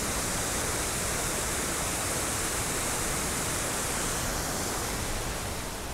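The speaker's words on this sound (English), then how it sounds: "So there you have it, loads and loads of water coming over it." A large volume of water pours over a waterfall, a steady, loud, full roar that stays unbroken throughout with no other sounds.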